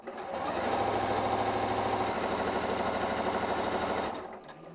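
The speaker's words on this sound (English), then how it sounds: "all I need to do is start sewing and the foot goes down by itself" Janome M8 sewing machine stitching quilt patches, running steadily at speed with a fast, even mechanical chatter close up, then slowing and stopping near the end.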